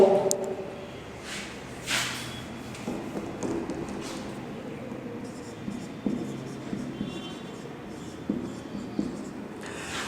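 Chalk or marker scratches and taps as a teacher writes on a board during a history lesson, with continuous close strokes over a soft room background and faint talk.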